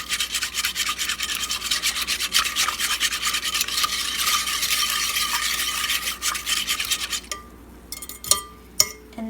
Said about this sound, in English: I'm just going to go ahead and whisk all of this together.